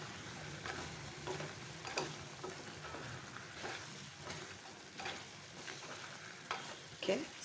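Chicken frying in mustard oil being stirred, a quiet close sizzle punctuated by irregular scraping and clinking of the utensil against the pan.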